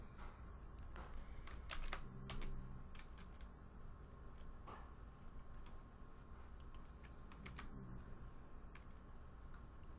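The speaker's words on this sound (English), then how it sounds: "Typing XML for me is so difficult." Keys clatter on a computer keyboard as XML is typed, a steady run of light clicks and taps over a low background hum, with no talking.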